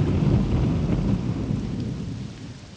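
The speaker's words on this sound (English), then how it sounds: "Some loud ass rain." Heavy rain in a modded Morrowind game world, a loud, steady low rumbling downpour with thunder-like weight that eases slightly toward the end, no voices.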